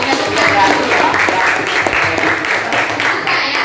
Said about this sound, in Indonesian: tepuk tangan dulu untuk Elsa